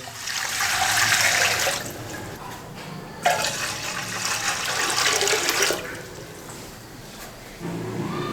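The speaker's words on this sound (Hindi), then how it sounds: "सबसे पहले हमने एक बर्तन ले लिया है, इसमें तकरीबन 2 लीटर के करीब पानी डालेंगे।" Roughly two liters of water are poured into a cooking pot while beef trotters are being prepared, a gushing, splashing flow that comes in several surges and pauses.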